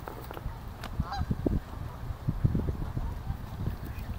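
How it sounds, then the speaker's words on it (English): Geese honking at the water's edge among ducks, a loose series of nasal honks over a busy, close low rumble, with a voice mixed in. "What did the goose say?"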